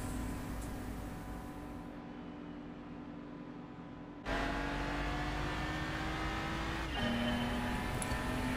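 Race car engines droning steadily in Gran Turismo 5, a continuous mid-level hum with a sudden jump in loudness partway through and a pitch shift near the end, no voices.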